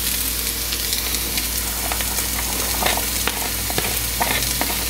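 Onion sizzles loudly and steadily in hot oil in a pan, a dense close hiss with a few faint crackles and spatula scrapes and no voices.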